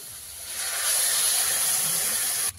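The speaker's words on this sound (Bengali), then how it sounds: "কুমড়োটা কষানো হয়ে গেছে। এবার জল দিয়ে দেবো।" Water poured into a hot pan of sautéed pumpkin bursts into a loud, steady hiss of steam that swells after a moment and holds for about two seconds before cutting off.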